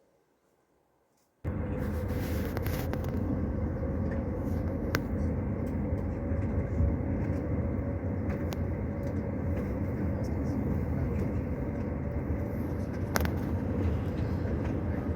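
Inside a coach travelling from Merseburg to Berlin, a steady low road rumble and engine drone hold constant after a brief quiet start, with a few faint clicks and knocks above the continuous hum.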